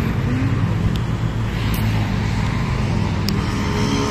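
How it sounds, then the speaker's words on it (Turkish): Cars pass by on a road near a park, giving a loud steady rumble of traffic with wind and no voices. "Burada da arabalar geçiyor."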